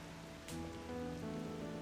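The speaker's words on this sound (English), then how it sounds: "It's raining here." Rain falling in the video game Final Fantasy XIV, a steady, soft patter over a constant background with faint musical tones, quiet and continuous throughout.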